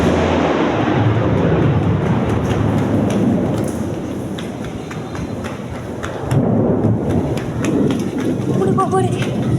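A thunderstorm with rain heard from a rooftop: a heavy, continuous roar of rain and rumbling thunder, loud and close, swelling again toward the end, with faint bird calls mixed in.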